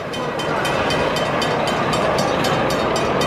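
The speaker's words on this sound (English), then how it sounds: "It's a miniature railway." A miniature railway train runs past at close range, a steady loud rumble with regular rhythmic wheel clicks over rail joints.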